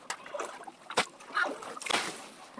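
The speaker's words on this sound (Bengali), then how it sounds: "আমি এখান থেকে পানি নিয়ে পানি দিতে হবে গরুর কাছে।" Water is poured and splashed for a cow on a farm, a few short close splashes and sloshes over about two seconds, with no talking.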